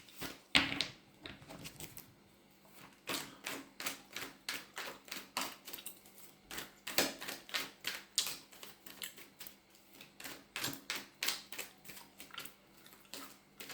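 Tarot cards are shuffled by hand in a quick, rhythmic series of crisp riffling snaps and taps that is close, quiet and steady, with no talking.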